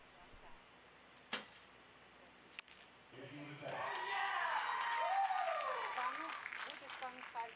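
At a women's recurve archery quarterfinal, after a sharp arrow impact, a spectator crowd breaks into sustained cheering and applause that swells and then fades, heard at moderate distance.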